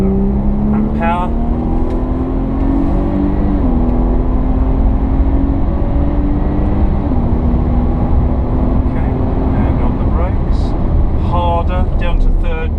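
Jaguar XF with a 360 hp engine accelerating around a racing circuit, a steady loud engine drone rising in pitch through the gears under continuous in-car talk.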